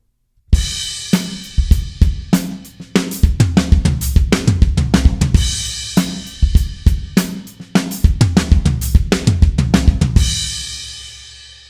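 A full drum kit plays a steady groove with a linear fill woven into the beat, where single hits of kick, snare and toms follow one another without overlapping. The playing is close, loud and dense with cymbals, and no one speaks.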